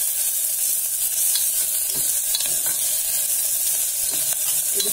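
Onions sauté in hot oil in a pan for chow chow gravy, giving a steady, loud, close sizzle with faint stirring scrapes throughout and no talking.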